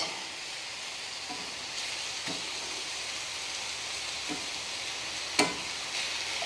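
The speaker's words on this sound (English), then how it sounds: "So I wanted this skillet really nice and hot. So I'm going to flip everybody over one more time" Beef sizzling in a hot cast iron skillet, a quiet steady hiss with a few scattered clicks and one sharper tap of a utensil, no voices.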